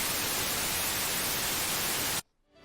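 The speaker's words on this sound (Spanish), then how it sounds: "Este es un ejemplo de ruido rosa." Steady broadband hiss of pink noise, a test signal weighted toward the low end with softened highs, runs loud and unbroken for about two seconds and then cuts off abruptly into near silence.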